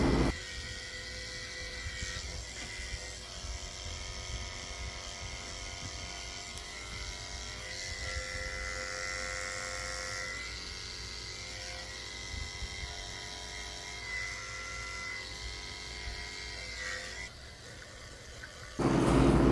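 Electric grooming clippers fitted with a 30 blade hum steadily at close range while shaving a toy poodle's face. The buzz shifts slightly in pitch as the blade moves, then cuts off near the end.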